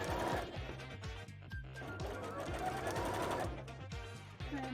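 A sewing machine stitches stretchy bra fabric in steady rapid bursts, its motor whirring close and loud while someone talks over it.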